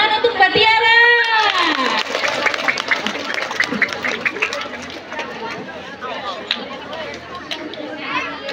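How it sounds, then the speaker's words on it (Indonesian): Children and an audience at an elementary school environmental ambassador contest clap and cheer for a contestant, with excited high voices shouting at first, then scattered clapping and crowd chatter continuing under the noise. "Beri tepuk tangan yang paling meriah"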